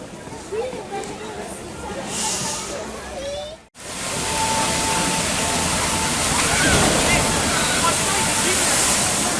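Noisette Express flume ride at Nigloland amusement park, a soft hiss of water and distant crowd murmur, then after a brief cut a loud, steady rushing splash and spray of water that continues to the end.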